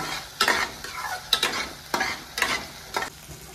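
A kofta curry gravy with garlic cooking in oil until the oil separates, a continuous close sizzle with five or six rhythmic scraping stirs of a spoon through the pan, no voices.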